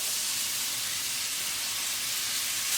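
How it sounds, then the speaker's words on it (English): Onion and mushroom frying in a pan for a pork chop meal give off a steady, close, even sizzle and hiss that runs unbroken throughout, with no talking. "in this pan, I'm just going to put in the onion and the mushroom"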